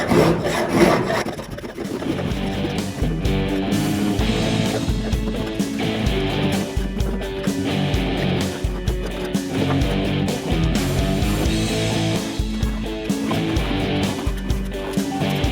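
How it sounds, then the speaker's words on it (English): Paint stripper is scraped off a body panel of a 21-window VW Bus under restoration, where the stripper is softening old Bondo. Steady, close, loud rasping strokes run continuously with dense grinding texture and no talking. "I'm gonna start scraping this,"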